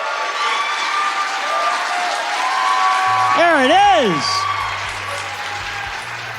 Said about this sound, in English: clap for yourselves, too